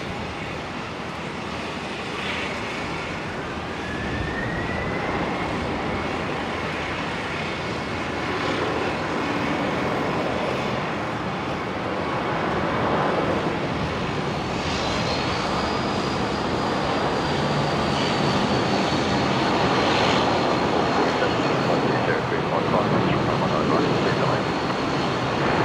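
A Qantas Link airliner departing Brisbane International Airport for Canberra gives a steady, broad engine roar across the whole stretch, swelling gently as it climbs away, with a faint high whine running through it.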